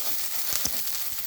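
Chicken masala with Kashmiri red chilli powder, turmeric and extra oil fries in a pan, making a steady close sizzle with a couple of soft stirring scrapes.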